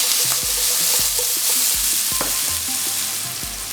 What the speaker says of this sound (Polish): wsypuję jakieś 10 deko pokrojonego w takie paseczki boczku, który teraz muszę sobie ładnie wysmażyć